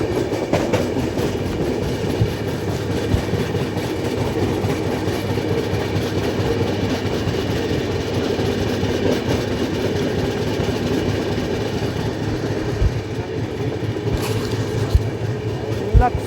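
The 14618 Amritsar–Purnia Court Jansewa Express runs on rails near Laksar Junction with a steady rumbling roll and rhythmic clickety-clack of wagons, heard from inside the train, continuous and moderately loud throughout.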